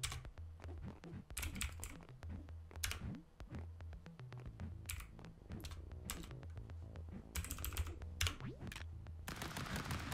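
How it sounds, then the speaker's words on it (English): Rapid, uneven keyboard typing clatters throughout during a Stick Fight game session, with dense bursts of clicks over layered game sounds. "That's me typing. I typed."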